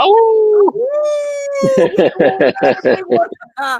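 A voice imitates a long wavering howl, then breaks into choppy laughing sounds, loud and close.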